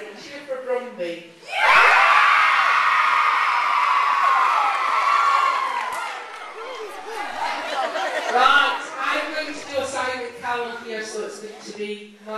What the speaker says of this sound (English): Cheer for Brumby.